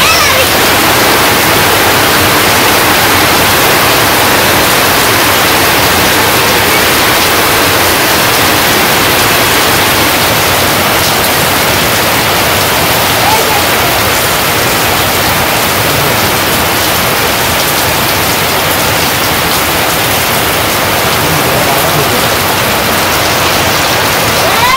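Steady, dense rain pours down in a village, a continuous even hiss with no breaks for the whole stretch, loud and close.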